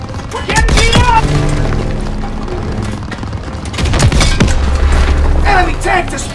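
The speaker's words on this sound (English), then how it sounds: "Enemy tank destroyed!" A German panzer tank is blown up in the Call of Duty WWII video game: a heavy boom bursts out amid rattling gunfire and further blasts, loud and dense, with voices shouting over the battle.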